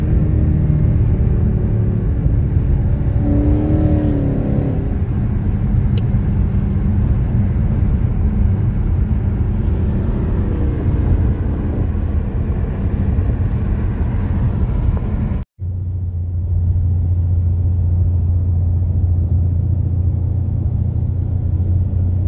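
A Ford Mustang at an owners' club breakfast run in Cape Town gives off a steady deep rumble with slight rises in pitch, continuing after a brief cut and settling into a lower, even idle-like drone.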